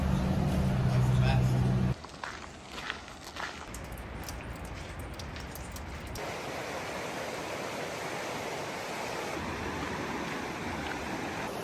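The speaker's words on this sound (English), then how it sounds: "this little creek behind me" A steady wash of flowing water rushes continuously, loud and close at first, then softer and broader, with no voices.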